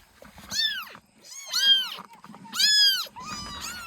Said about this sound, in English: The children are bringing me a bucket of kittens.